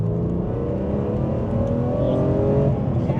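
A BMW E46 M3 engine pulls hard under acceleration, a loud, steady, rising rev heard from inside the car with road rumble beneath it and no voices.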